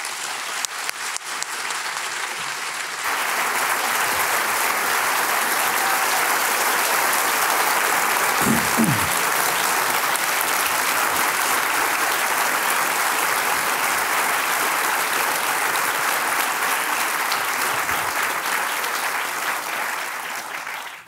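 A theater audience applauds steadily for about twenty seconds as David Brooks and former Secretary Jim Mattis take the stage, with dense sustained clapping that starts softly and then swells to full volume.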